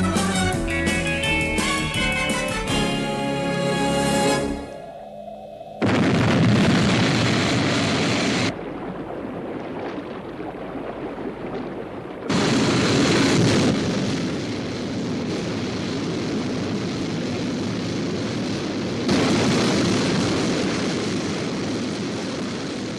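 A Paul Foster XV-104 aircraft lifts off with a loud, close roar, with engine noise surging in several heavy stages, after a short opening burst of tonal music, and no voices.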